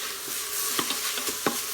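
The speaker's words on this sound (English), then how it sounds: "It's already sizzling." A frozen piece of celery sizzles in an Instant Pot while being stirred, steady hissing fry noise broken by several soft scraping clicks of the spoon.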